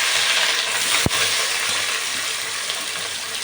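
Chopped large onions sautéing in hot oil in a pan for Tamil-style chicken biryani, a steady broad sizzle with one sharp knock partway through and fainter clinks after.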